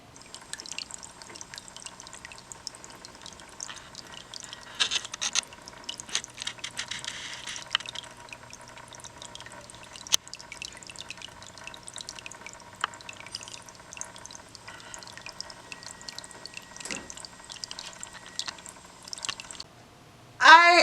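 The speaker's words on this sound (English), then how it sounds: "I just cannot stand the sound of running water" Water trickles and drips steadily in a reptile or fish tank, a faint continuous splashing with occasional brighter drips, alone without talk for about twenty seconds.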